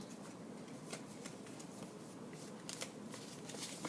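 Paper strip being folded across for a Möbius strip demonstration, giving soft crinkling and rustling with faint crisp creases, fairly quiet and steady throughout.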